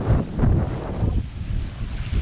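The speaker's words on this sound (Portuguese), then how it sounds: "E o vento tá apertando agora, porque ali o sudoeste não tem muito morro alto." Strong wind at sea on a sailboat trip from Arraial to Búzios, gusting loudly and roughly against the microphone in a continuous buffeting rush with no speech.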